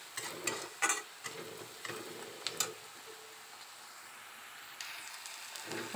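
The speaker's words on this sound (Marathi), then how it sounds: "व्यवस्थित त्याला परतून घ्यायचं, फिरून घ्यायचं, मिक्स करायचं आणि गॅसचा फ्लेम जरा कमीच ठेवायचा" Peanut paste and turmeric are stirred in a pan over a low flame. Scrapes and clicks come irregularly under a soft, continuous sizzle, close and fairly quiet, with no voices.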